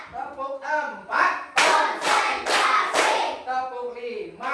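A classroom clapping exercise: a group of children claps together in a burst of four or five loud, sharp claps in quick rhythm, with a teacher's voice calling the pattern before and after.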